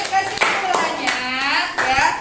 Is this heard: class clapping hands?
yes